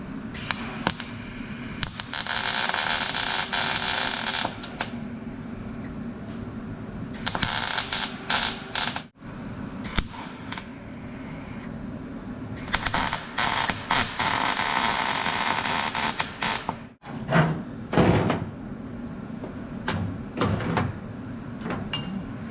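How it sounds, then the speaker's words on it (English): Tack welding a steel tool box for a Big Tex 14TL tilt-deck trailer produces bursts of broadband crackling and buzzing, several sustained runs of a few seconds each separated by brief pauses, loud and close. "So let me get the welder out"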